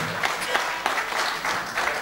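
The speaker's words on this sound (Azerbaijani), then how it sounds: "Alqışlar hardadır?" A crowd claps steadily throughout a book launch evening, a warm sustained round of applause with no break.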